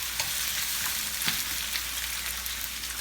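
Garlic sautéing in olive oil in a pan on an electric stove gives a steady, close, even sizzle that hisses throughout without a break, with no voices.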